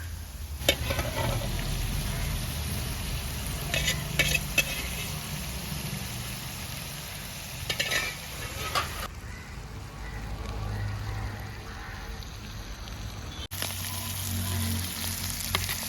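Fish fries in hot oil for a spicy fish pickle, a steady crackling sizzle with intermittent clatters of stirring and scooping, heard close and alone.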